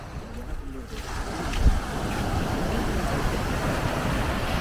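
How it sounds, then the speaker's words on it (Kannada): Ocean waves at Blue Flag Beach in Udupi make a continuous broad roar with wind buffeting the microphone, and the surge swells slightly partway through. "ಕಡಲಿನ ಬೋರ್ಗರೆತ ನಮಗೆ ಕಾಣ್ತಾ ಇದೆ ನೋಡಿ"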